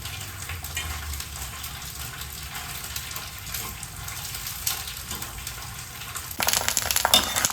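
Sabudana (tapioca pearls) frying in hot oil for a fasting chivda, a steady broad crackling sizzle throughout that grows louder and busier toward the end, with no voices.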